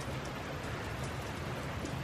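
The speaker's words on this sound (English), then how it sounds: "pretty much just rain now" Steady rain falling in Portland, Oregon, a continuous dense hiss of drops hitting surfaces, even and fairly close throughout with no voices.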